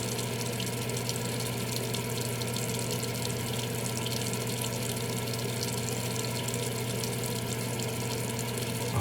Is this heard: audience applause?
no